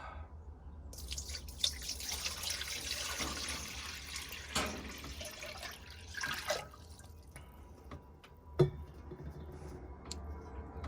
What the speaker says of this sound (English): then press this so the water drains